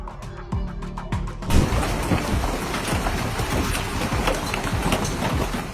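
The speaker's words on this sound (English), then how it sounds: "Lake Ouachita suddenly became a giant drum, while hail kept pounding against it non-stop" Hail pounds a lake surface during a storm in a dense, continuous hiss and clatter, with heavy thuds at the start giving way to a steady roar.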